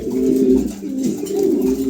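Pigeons coo close by, a pair of soft, low, rolling calls repeating in quick succession without any other sounds.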